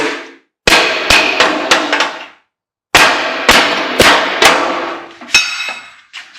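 A hammer beating down a metal lip on scrap metal before cutting, ringing clangs struck in quick loud bursts of four or five blows, separated by a short silence, each strike sharp and close with a metallic ring decaying after.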